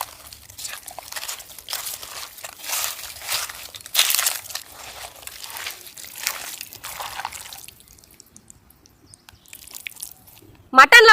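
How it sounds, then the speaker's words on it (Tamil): Wet, squelching crunches come as mutton is worked by hand with spices, rock salt and ginger-garlic paste in a village-style biryani prep, mostly in irregular close bursts with a quiet pause near the end. "இது எல்லாத்தையுமே அப்படியே மிக்ஸ் பண்ணிடலாம்."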